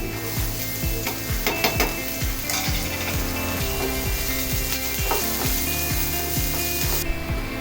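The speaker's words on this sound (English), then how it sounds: "Then we add the onion." Onion sauteed with garlic and ginger in a pan, a steady close sizzle broken by a fast run of clattering strokes from a utensil against the pan.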